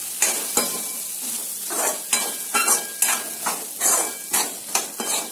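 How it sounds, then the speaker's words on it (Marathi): Val beans are stirred into a hot frying pan, with repeated scraping spoon strokes over a steady sizzle, each stroke sharp and close in an uneven rhythm. "वालाचे दाणे टाकले की याला चांगलं मिक्स करून घ्यायचं."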